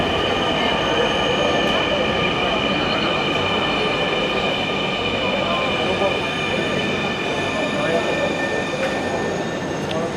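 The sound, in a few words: metro train arriving at station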